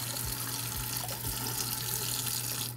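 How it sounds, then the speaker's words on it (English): A kitchen tap runs steadily into a sink while canned chickpeas are rinsed, giving a constant close splashing flow with a low hum underneath and no talking. "take it over to your sink and rinse thoroughly and try and get all that liquid out"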